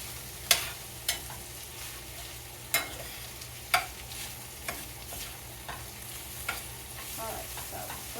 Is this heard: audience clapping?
no